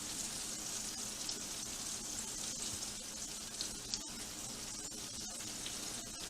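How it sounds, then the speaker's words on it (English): Steady crackling sizzle of egg-washed pork chops frying in a hot pan, continuous and moderately loud with small pops, no talking. "So there are my pork chops frying with the egg wash on them."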